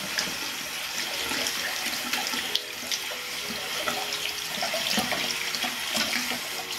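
Tap water runs steadily into a sink while a lavender vegan soap bar is rinsed under it, a continuous broadband splashing hiss with small irregular splatters and no talk.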